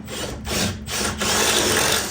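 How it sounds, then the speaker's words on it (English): A power drill whirs in short close bursts, stopping and starting twice before running steadily, with no talking. "Check that with the drill."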